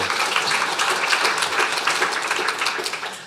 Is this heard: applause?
yes